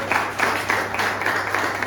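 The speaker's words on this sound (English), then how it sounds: "I just want you all to give a big round of applause to Dr. James." An audience at a presentation on Nigerian postage stamps, currency and beverage bottles gives a round of applause, steady moderate clapping heard from a middle distance.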